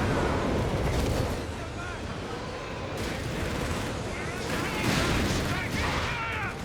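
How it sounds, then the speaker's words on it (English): A Nebelwerfer rocket barrage pounds a base in Company of Heroes 3, a dense, continuous roar of overlapping blasts and rumbling impacts swelling toward the end, with battlefield clutter throughout. "Got Neva barrage off. Bombarding the American base."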